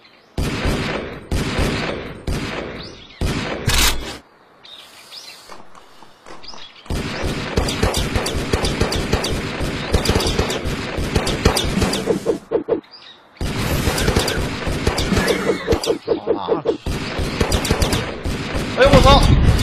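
Rapid bursts of gunfire in the video game Very Ordinary Deer, loud crackling automatic volleys in long stretches separated by brief pauses, with a person talking excitedly over them.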